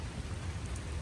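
Rain falls steadily over farm fields near a hut, a dense, even hiss of drops with no voices.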